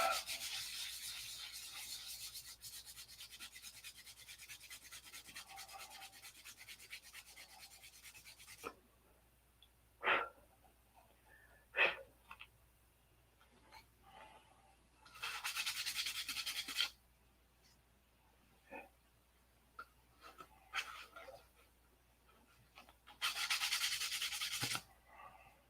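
A P-47 scale model is hand-sanded in short bursts of close, dry rubbing and scratching, separated by quiet pauses with small handling taps.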